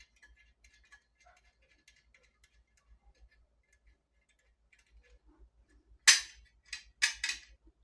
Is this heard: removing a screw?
yes